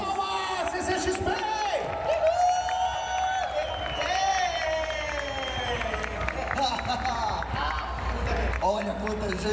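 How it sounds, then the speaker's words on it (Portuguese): A large crowd at the CCXP 2024 convention in Brazil cheers, whoops and claps for arriving guests, a dense sustained roar with a host's voice talking over it throughout. "Palmas pra eles! Palmas, CCXP!"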